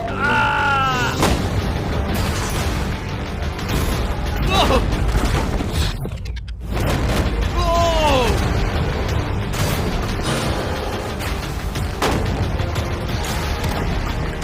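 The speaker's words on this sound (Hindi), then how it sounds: "पहला शॉट फायर करो" Gunshots fired at a shipping container, heavy booming reports over constant loud noise, with voices talking throughout and a brief lull midway.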